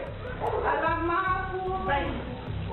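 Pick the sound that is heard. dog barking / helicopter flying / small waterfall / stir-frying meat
dog barking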